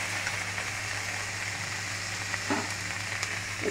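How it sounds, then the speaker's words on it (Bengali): Green and ripe tomatoes with green chilli frying in a pan, a steady close sizzle with faint crackles and a soft stir, continuous and moderate in volume. "এই কাঁচা পাকা টমেটো দিয়ে দিলাম, একটু টক টক হবে, কাঁচা লঙ্কা দিয়ে করেছি"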